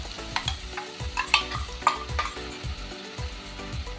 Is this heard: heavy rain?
no